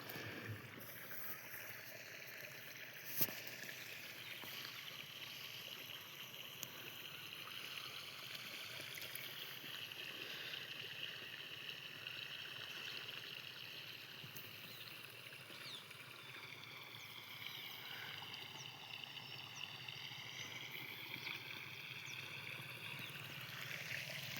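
Irrigation water flows steadily into a chickpea field in a soft, continuous gush and trickle, fairly quiet and alone, with one sharp knock early on.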